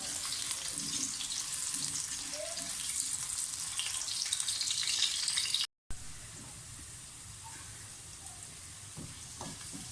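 Tomato and onion frying in a pan for a chutney, giving a soft, continuous sizzle with faint stirring noises; the sound is quiet and even, with a short break midway and no talking.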